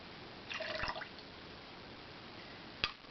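Lime juice pours from a small measure into a glass container for a tarragon salad dressing, giving a brief trickling splash followed later by a single sharp drip or clink, close and quiet.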